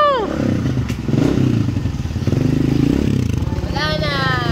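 A motorcycle engine runs and revs nearby with a loud chugging rhythm, mixed with clatter and voices talking over it.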